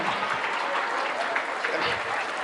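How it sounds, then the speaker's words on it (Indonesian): A crowd at an Indonesian religious talk claps, a continuous, fairly close burst of applause filling the whole moment with a voice mixed in. "Ini yang tepuk tangan biasanya yang tidak dapat bansos"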